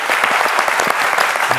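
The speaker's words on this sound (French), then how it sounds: "On peut l'applaudir." A brief burst of audience applause during a love-themed quiz show, dense rapid clapping from a crowd, heard alone.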